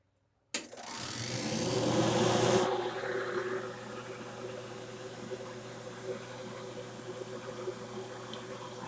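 A home kitchen fan switches on abruptly and runs as a steady broadband whoosh with a low hum, louder at first and then settling, while faint cooking sounds continue beneath.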